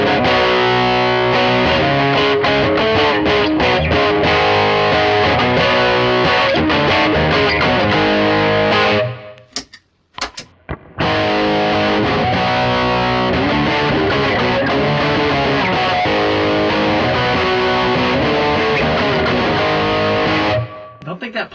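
Electric guitar through a Dumbler overdrive pedal with gain raised and both tone controls turned fully up, playing loud, heavily distorted chords that ring continuously, with a brief break near the middle and a cut-off at the end.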